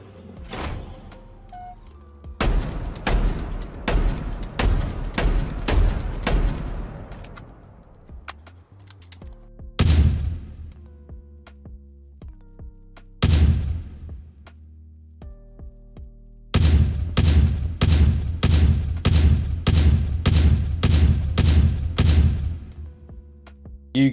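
Halo Infinite multiplayer gunfire comes in sharp, rapid bursts of shots with short gaps between volleys and a long fast string near the end, loud and close with no talking.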